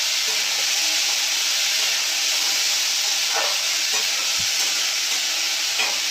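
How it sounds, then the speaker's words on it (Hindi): Cucumber, tomato, dry chili and mustard seeds sauté in a pan for a sweet cucumber chutney, giving a steady bright hiss of frying with a few faint clicks of stirring and no voices. "अभी मैं एक साथ भून लूँगी कुकुम्बर,"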